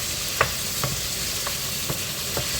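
Chopped tomatoes with courgette and chicken fry in a pan, a constant close sizzle under a few soft, spaced stirring scrapes of the spoon.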